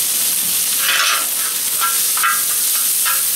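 Garlic and onions searing in olive oil on a discada cowboy wok, a steady loud sizzle with occasional stirring scrapes and spatters throughout, no talking.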